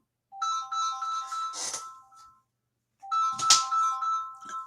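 An incoming-call phone ringtone plays a bright melodic ringing pattern twice, close and clear, with a short silence between the two bursts and no talking.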